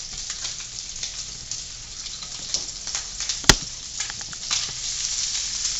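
Sausage fries in a pan with a continuous crackling sizzle and scattered pops of spattering fat, plus one sharp knock midway, close and steady without talk.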